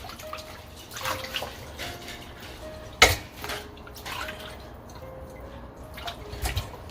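Plantains being rinsed in running water, a gentle intermittent trickle and splash with occasional louder sloshes and one sharp knock, close and quiet.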